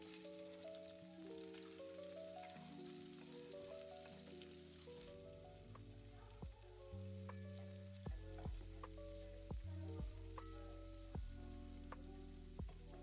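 Sliced onion goes into the same ground-beef pan and fries with a soft, constant sizzle and a few scraping clicks, largely buried under louder background music.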